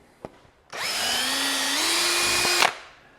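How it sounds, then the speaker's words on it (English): A power drill bores a hole through scrap plywood: one close, loud whine lasting about two seconds, its pitch rising slightly as it works, after a brief click, then stopping abruptly. "Then we drilled some more holes in a couple pieces of scrap plywood to give it the sort of base I'm wanting."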